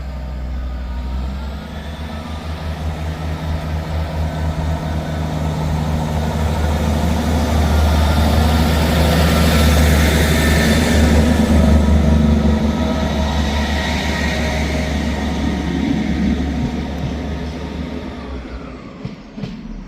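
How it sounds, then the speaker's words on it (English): A ScotRail service from Edinburgh Waverley to Perth pulls out of Ladybank station with a loud, close diesel rumble and throbbing low engine note, swelling in the middle then easing as it moves away. "Departing out now is the 1440 ScotRail service from Edinburgh Waverley to Perth"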